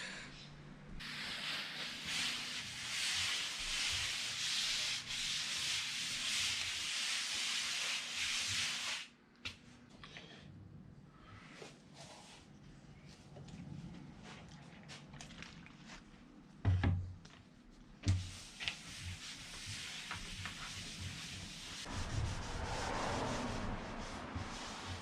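Tack rag wiping fiberglass dust off a small DIY micro skiff hull, making a long close rubbing swish, then quieter intermittent shuffles and a couple of thumps, then more rubbing.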